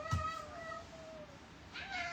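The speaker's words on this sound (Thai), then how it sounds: "ดูแมวซุก โอ้โหแมวแมวแมว" A cat meows indoors among several cats, one wavering drawn-out call near and moderately loud, followed by a higher cry at the end and a brief thump early on, with no talking.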